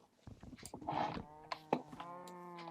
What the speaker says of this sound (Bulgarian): Тук има доста крави.